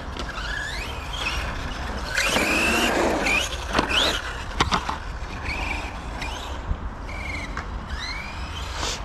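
A radio-controlled offroad car drives on a pump track at a BTwin village, its motor whining and rising in pitch with repeated squeals and bursts of acceleration, close and continuous with no talk.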